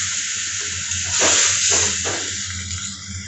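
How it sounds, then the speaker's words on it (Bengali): Water poured into a hot pan of fried-down spices and potatoes for a soybean curry, a steady hiss swelling into a few splashing gushes before settling back. "একটু জল অ্যাড করছি"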